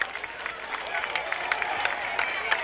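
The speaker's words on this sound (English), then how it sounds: "Wildcat fans applaud the effort of this ball club" Wildcat fans at a Weymouth versus Quincy high school football game applaud from the stands, a steady distant wash of clapping and crowd noise lasting throughout.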